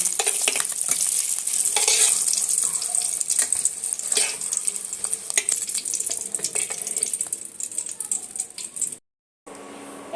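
Oil sizzles and crackles steadily as eggs fry in a pan, with occasional scraping and stirring clatter, close by, before a brief silence near the end.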